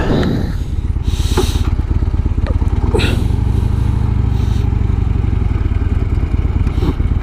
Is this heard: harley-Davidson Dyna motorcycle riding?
yes